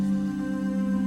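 The Warm Flutters preset of the Alchemy synth in Logic Pro plays a sustained warm pad with a strong low drone and a faint fluttering upper shimmer. It is held steady throughout with no voices.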